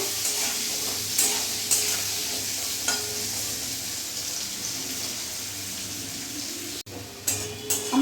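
Continuous sizzle of potatoes frying in oil, punctuated by a few stirring scrapes and a brief pause near the end.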